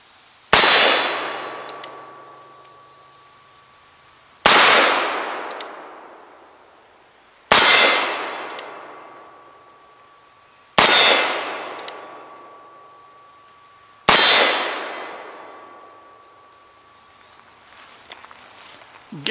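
An Uberti Schofield revolver fired at steel targets: five loud, sharp shots spaced a few seconds apart, each followed by the bright metallic ring of the hit plate fading away.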